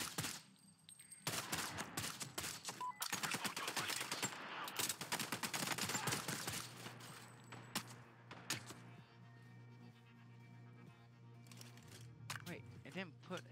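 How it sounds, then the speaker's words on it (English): Bursts of video-game gunfire crackle nearby in rapid, clustered volleys, loud at first and then thinning into scattered shots over a steady low hum, with someone talking intermittently across it. "Shots nearby."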